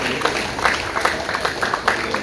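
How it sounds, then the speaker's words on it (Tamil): A crowd claps in a brisk, scattered patter, fairly loud and continuous, with speech mixed in. "நல்ல கைத்தட்டல் கொடுப்போம்"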